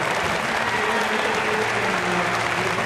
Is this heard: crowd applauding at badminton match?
yes